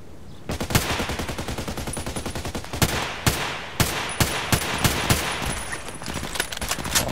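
Rapid automatic gunfire in the shooter game Contract Wars, a loud close continuous burst with a few heavier single shots standing out through the middle.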